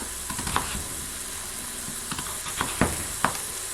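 Onions sizzle and brown in a pan for vegetable goulash, a steady close frying hiss with a few sharper crackles and stirring scrapes scattered through, no talking.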